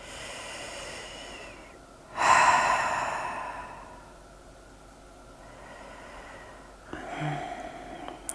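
Slow breathing during a yoga session: a strong, close exhale rushes out, tails off into quiet, and a softer second breath follows near the end, with no talking.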